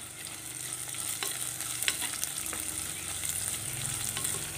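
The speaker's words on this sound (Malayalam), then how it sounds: "ഇഞ്ചിയും വെളുത്തുള്ളിയൊക്കെ ഒന്ന് മൂത്ത് പച്ചച്ചവയൊക്കെ ഒന്ന് മാറി വരണം." Ginger and garlic sizzle steadily in a pan for a fish curry, a continuous frying hiss with occasional stirring scrapes and pops, close and alone without talk.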